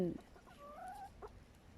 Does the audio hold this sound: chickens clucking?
yes